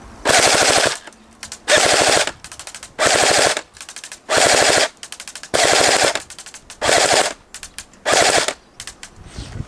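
An airsoft M14 rifle fires in full auto, giving about eight close, loud, rapid rattling bursts of roughly half a second each, separated by short pauses.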